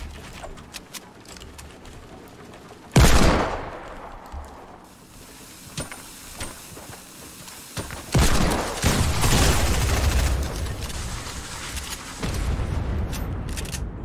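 Bursts of video game gunfire in an endgame match, a loud volley near three seconds, then scattered shots and a long dense stretch of firing with booms from about eight seconds on.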